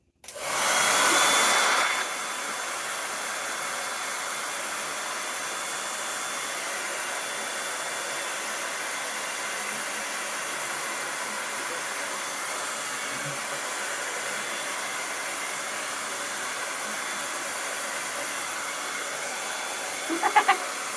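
A hair dryer blows on freshly applied Magnolia stencil paste for about twenty seconds. It is loudest for the first couple of seconds, then settles into a steady whooshing hum with a brief rustle near the end.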